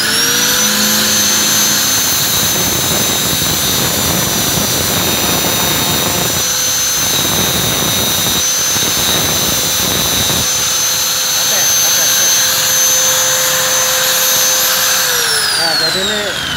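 A grinder sharpening a tungsten electrode for TIG welding, a loud steady motor whine with gritty bursts of grinding contact, spinning down at the end.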